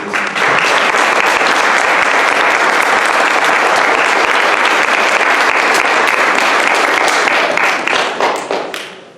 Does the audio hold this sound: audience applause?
yes